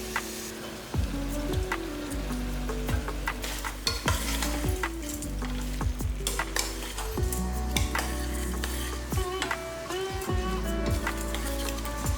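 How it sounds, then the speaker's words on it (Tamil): Soaked basmati rice for kuska is stirred in a hot frying pan, giving a steady sizzle broken by repeated close scraping and clinking strokes of the spoon against the pan. "லேசாக அந்த மாதிரி கிண்டி விடுங்க"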